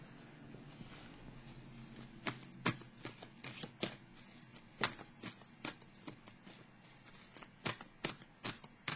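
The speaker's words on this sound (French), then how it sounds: "je vais aller piger une carte ici" Quiet, close card handling from a tarot deck: soft papery slides and a series of sharp flicks and taps as a card is drawn, faint and with no speech.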